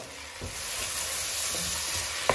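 Golden onions frying in a pan for chicken biryani as tomatoes go in, a steady close sizzle with a few soft stirring scrapes and a sharp clack near the end.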